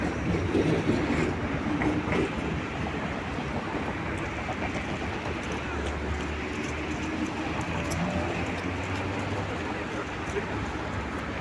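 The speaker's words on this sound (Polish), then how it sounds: "Jak nie samochody, to tramwaje musiały się skorkować." Continuous rumble and rattle of trams rolling along city tracks in a traffic jam, steady and fairly close, with faint clicks over the droning low end.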